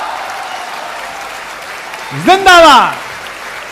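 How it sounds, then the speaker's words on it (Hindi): Audience applause at a Hindi comic poetry recital, a steady crowd clapping throughout with a voice loudly shouting a slogan over it near the end. "तालियां थोड़ी कम थी"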